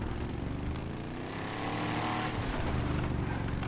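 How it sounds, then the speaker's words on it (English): A monster truck engine in the video game GTA idles and revs steadily while making a K-turn, a continuous close low rumble with a slight rise in pitch toward the end. "I'm gonna do a K-turn in a monster truck,"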